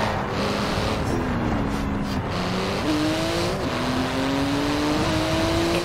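A Porsche 911 GT2 races through city traffic in Forza Horizon 4. The engine roars steadily and loudly, with rising and falling pitch as it shifts through the gears, and tire noise runs under it throughout.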